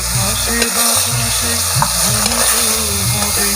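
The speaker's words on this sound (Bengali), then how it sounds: "বন্ধুরা তেল গরম হয়ে গেছে, এবার মা ইলিশ মাছ দিয়ে দেবে।" Hilsa fish pieces hit hot oil in a pan and sizzle steadily, a close, continuous frying hiss with light bubbling crackle throughout, no talking over it.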